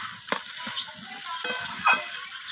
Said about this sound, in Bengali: তো কুমড়োগুলোকে দিয়ে আমি আলু, পেঁয়াজ আর মাছের তেলের সাথে এইভাবে নাড়াচাড়া করে নিচ্ছি।